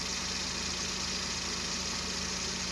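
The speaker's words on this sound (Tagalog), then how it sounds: "Tahimik lang yung makina, walang vibration." A Daihatsu multicab engine idles quietly and steadily for the whole stretch, with a low, even rhythmic pulse, no revving and no voices.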